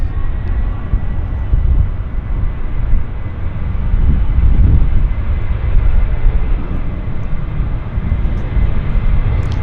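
An airliner takes off at Vancouver YVR airport, a loud sustained jet engine roar swelling midway as it powers down the runway, heard from a spotting position with no talk.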